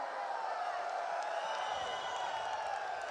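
A large esports arena crowd at a Counter-Strike semi-final cheers and whoops in a steady, dense roar, with hints of voices mixed into the wash of noise.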